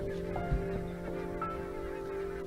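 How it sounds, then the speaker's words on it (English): Barnacle geese at a Scottish river in winter give faint, distant honking calls over a steady background hum, with no voices present. "Every winter, barnacle geese arrive right on cue at the same Scottish"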